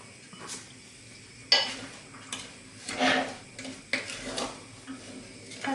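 Soft scraping and light clinks of a spoon stirring 30% cream in a pot, irregular and close, with a faint simmer underneath.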